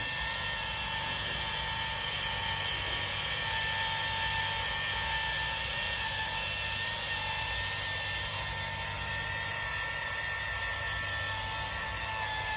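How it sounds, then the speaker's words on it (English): A dual action polisher removes oxidation from the paint of a 1997 Toyota Land Cruiser. Its motor hums and whirs steadily and loudly, close up, without pause. "you can use a dual action polisher for this as well. And we'll remove some of that oxidation."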